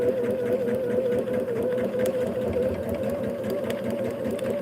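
A sewing machine stitches a line across the top of a foundation-pieced quilt block with a steady, close mechanical whir and fine rapid needle chatter throughout.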